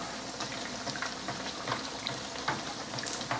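Pork tonkatsu frying in a shallow layer of cooking oil, a soft continuous sizzle with scattered faint pops and crackles, quite quiet.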